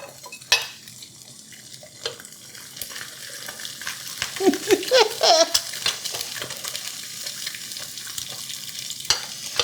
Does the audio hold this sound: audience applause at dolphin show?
no